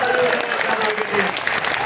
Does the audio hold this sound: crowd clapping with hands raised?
yes